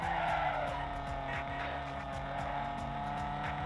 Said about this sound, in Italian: come anche il rumore dell'auto